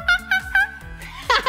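A voice imitating a jungle monkey gives a few short, bright hooting calls, then a louder, shriller burst near the end, all up close and alone.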